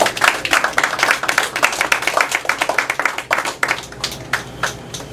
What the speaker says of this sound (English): Another round of applause for Seth Johnson.